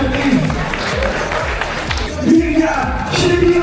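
A crowd at a street lifting competition in Annecy applauds and cheers, steady clapping with voices and shouts mixed in, fairly loud and continuous throughout.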